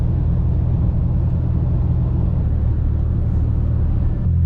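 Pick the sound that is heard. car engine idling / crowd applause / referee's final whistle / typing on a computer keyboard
car engine idling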